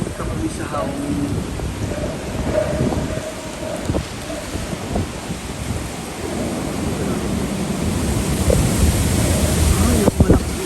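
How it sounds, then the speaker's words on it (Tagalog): Strong typhoon winds roar and buffet the microphone in Hong Kong, with rain and a steady surf-like rush throughout, while people talk faintly under the storm noise and a few sharp knocks come near the end. "Malakas talaga din yung hangin niya."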